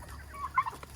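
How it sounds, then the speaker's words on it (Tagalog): A chicken clucks in a few short, soft calls during livestock feeding at a home in the Philippines, with steady low background rumble and no talk. "I have a chicken."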